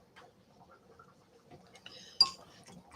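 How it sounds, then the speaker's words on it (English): A whisk works tomato paste into stew liquid inside an Instant Pot for Irish stew, giving faint, irregular scraping taps and a single brighter metallic clink near the end. "So just whisking that tomato paste in here so it's a little bit, just a thick paste."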